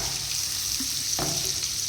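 Mixed vegetables frying in a pan over a medium flame, an even close sizzle with a brief stirring scrape and knock midway, no voices.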